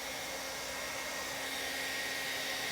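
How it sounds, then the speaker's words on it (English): A hairdryer blows steadily on its hot setting, a loud continuous whoosh with a faint motor hum that runs unbroken from start to finish with no talking. "So we went and got a hairdryer."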